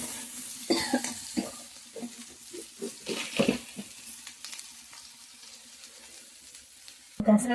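Ginger, garlic and peanuts fry in a pan, a soft sizzle broken by repeated clattering stirs and scrapes, with a louder clank at the very end.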